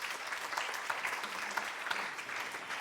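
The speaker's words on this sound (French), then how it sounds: "Merci de lui donner du courage avec vos applaudissements" An audience claps to welcome a guest onto a French talk stage, a steady, moderately faint wash of many hands sustained evenly throughout with no voices over it.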